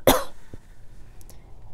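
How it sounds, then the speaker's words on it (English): A single sharp, loud cough close up in a dusty craft area, followed by a faint throat sound and quiet room tone. "I'm coughing because it's so dusty in here"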